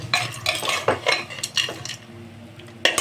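Pasta is stirred into masala in a pressure cooker with a metal spoon, giving a run of clattering scrapes and knocks against the pot. The strokes are close and uneven, then go quiet before one last clank, with no talking.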